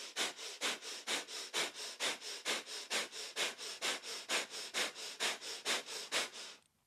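Breath of fire, a rapid kundalini yoga breathing exercise: about twenty quick, forceful nasal breaths in an even, steady rhythm, close and fairly loud, with no talking, stopping just before the end.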